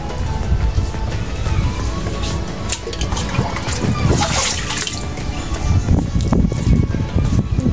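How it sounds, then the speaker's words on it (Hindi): Water poured onto potted plants, a continuous splashing and trickling stream, close and fairly loud, with gusts of wind in the background. "अभी मैंने सब पौधों को पानी तो डाल दिया है"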